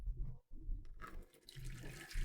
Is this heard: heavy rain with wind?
no